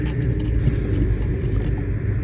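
A Skoda Kylaq car out on a test drive on a Delhi road fills the cabin with a steady low engine and road rumble and no talking.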